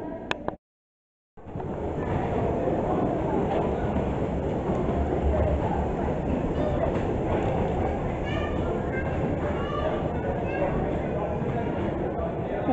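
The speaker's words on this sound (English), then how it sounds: "Here comes another Kingmere train." A miniature train at the Moors Valley railway near Bournemouth rolls in, a loud, steady rumble with faint rhythmic clicking from the track, heard close after a brief silence at the start.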